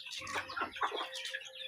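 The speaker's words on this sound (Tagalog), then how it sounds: "Yan yung ating mga sisiw." Backyard chickens with young chicks clucking and peeping in quick, close, overlapping calls for a brief moment.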